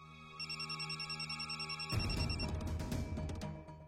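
An electronic telephone rings in a repeated trilling pattern for about two seconds, close and clear, then gives way to louder clattering handling noise as the phone is picked up.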